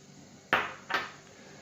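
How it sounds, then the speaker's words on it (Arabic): Dry ingredients, ordinary sugar, chantilly powder and vanilla, are mixed in a bowl for a creamy dessert. Two quick, close clinks of a utensil against the bowl ring out, each fading fast over a quiet background. "غادي نخلط كامل النواشف"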